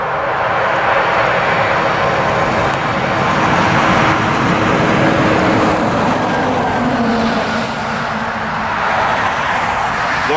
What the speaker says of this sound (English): large truck going by.